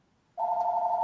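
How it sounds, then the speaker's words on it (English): A mobile phone rings nearby with a steady electronic tone, starting abruptly after a short quiet pause and sounding alone without talk. "Oh, that's somebody's phone."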